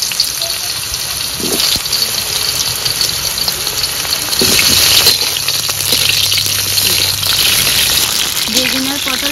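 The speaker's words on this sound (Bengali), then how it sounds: "বেগুন আর পটল ভাজা হয়ে গেছে" Brinjal and pointed gourd fry together in a pan with a loud, dense, hissing sizzle that swells midway, broken by a few spatula knocks.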